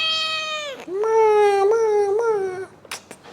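A cat meows indoors: a long, loud, drawn-out series of wavering meows close to the microphone, ending in a couple of short scuffling noises.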